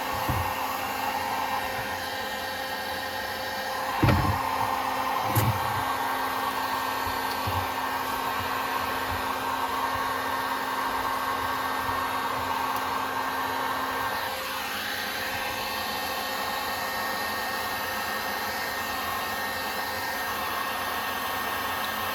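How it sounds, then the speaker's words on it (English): Heat gun blowing hot air steadily underneath an Apple Time Capsule during disassembly, a constant loud rushing whine with a couple of faint clicks early on. "I'm just kind of laying the heat gun down and letting it go in underneath here"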